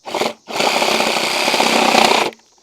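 A Sawzall reciprocating saw fitted with a metal blade cuts through pipe during a water collection system install, with a short burst of buzzing followed by a steady, loud, rasping cut lasting about two seconds.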